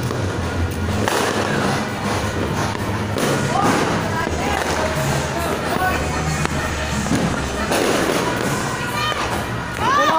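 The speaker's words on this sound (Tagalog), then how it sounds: "Ayun yung fireworks" Fireworks bursting outside a house on New Year's Eve, a steady run of thuds and crackling pops mixed with background crowd noise.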